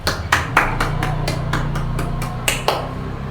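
High school students in a physics classroom clap together in a rhythmic pattern, about ten sharp, evenly spaced claps at close range over a low background hum, with no talk.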